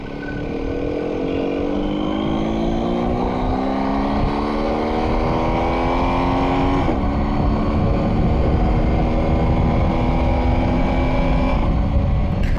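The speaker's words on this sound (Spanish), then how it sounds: "Me encanta cuando corta gas el Quickshift al subir y petardea la moto" A BMW R1250GS Triple Black motorcycle engine roars at close range under heavy wind rush, its pitch climbing through the gears with a sharp break where the quickshifter cuts in on an upshift.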